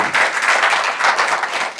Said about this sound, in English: Y'all give that young lady a round of applause, a beautiful voice.